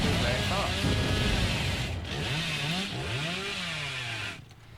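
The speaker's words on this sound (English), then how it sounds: "as you can see, our chainsaw charges very fast" The Hillbilly's chainsaw in the Dead by Daylight video game charges up with a steady mechanical engine drone whose pitch swoops and rises, continuous for several seconds before cutting out near the end.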